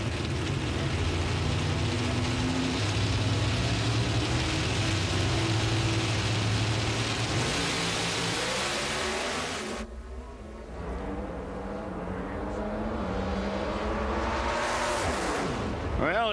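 Pro Stock drag race cars roaring down the strip at the Winter Nationals in Pomona, a loud sustained engine howl with shifting pitch, a sudden drop as the run ends, then rising engine sound again, with announcer talk mixed in.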